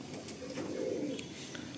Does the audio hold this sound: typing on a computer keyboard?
no